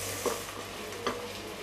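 Masala sautéing in a pan for spicy dry mutton sukka, a soft steady sizzle with two brief stirring scrapes of a spoon, close and fairly quiet.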